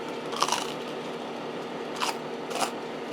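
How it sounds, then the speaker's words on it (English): Air-fried pepperoni pizza crust from a countertop air fryer oven, bitten into close up, giving three short dry crunches spread over a few seconds against a quiet background. "Listen to this crunch."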